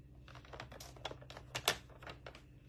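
A scoring blade sliding along cardstock on a paper trimmer, with a series of short, crisp scraping strokes and clicks, quiet and close, irregularly spaced, with no talking.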